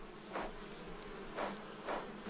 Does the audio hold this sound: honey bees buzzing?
yes